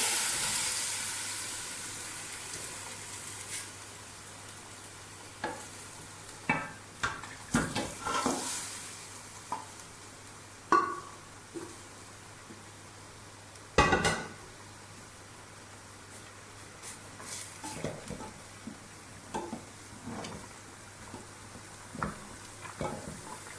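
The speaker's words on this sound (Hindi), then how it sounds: "थोड़ी सी ये गरम यखनी मैं इसमें ऐड करने लगा।" Hot beef broth poured into a pot for beef nali pulao, giving a steamy hiss with scattered sizzling bursts and clinks of stirring, fairly quiet and close with no talking.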